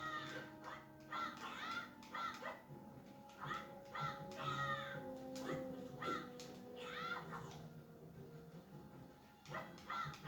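Caws from the crow-like Guay bird in the Majora's Mask video game, several harsh calls scattered over game music and effects.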